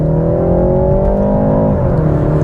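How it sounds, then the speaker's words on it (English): A 2021 BMW 330i engine pulls hard at full throttle out of a tight corner, a loud steady rising drone with strong harmonics, close and alone, dipping briefly near the end as revs shift. "All right, acceleration, full throttle."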